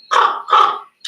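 A person imitates a crow's caw indoors in a bathroom, two hoarse, drawn-out caws in quick succession, fairly loud and close, with the start of a third cut off at the end.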